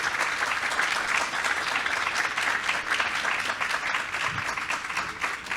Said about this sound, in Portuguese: Palmas para Clementina Jesus.